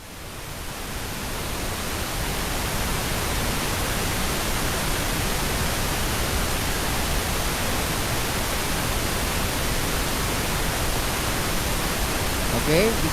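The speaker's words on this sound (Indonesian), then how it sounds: "Pink noise for sleeping" Steady pink noise test signal from a loudspeaker, a continuous broadband hiss holding even loudness for over ten seconds, with no talk over it.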